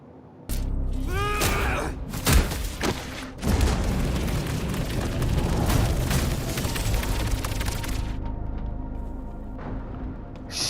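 A bomb goes off in the video game Dispatch, a sudden heavy boom followed by a long, loud rumbling roar of debris and crackling that fades after several seconds.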